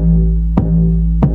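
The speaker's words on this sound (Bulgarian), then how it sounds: "Това е втория 808 бас." A loud, booming 808 bass sustains alone, with two sharp punchy hits spaced about two-thirds of a second apart over the deep low tone.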